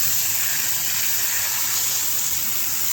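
Water sprayed from a hose onto a motorcycle dirty from off-road riding, rinsing before brake cleaner is applied; a steady, loud, close hiss of spray runs unbroken throughout.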